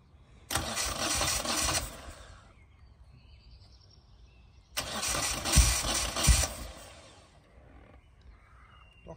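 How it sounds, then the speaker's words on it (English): A 1975 Moto Guzzi 750 S3 motorcycle engine cold starting: two loud cranking bursts about four seconds apart, the second catching briefly with rough firing before dying back to quiet. "Cold start."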